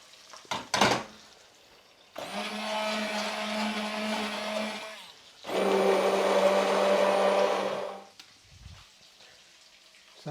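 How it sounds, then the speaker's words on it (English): Stick blender whizzing a butter chicken base gravy with a little added water, running in two loud sustained bursts of a few seconds each, separated by a short pause, with faint clatter before and after. "So a good 4 to 5 minutes on a stick blender."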